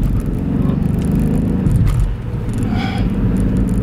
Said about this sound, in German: Der klingt so ein bisschen, als würde ein Zylinder nicht mitlaufen.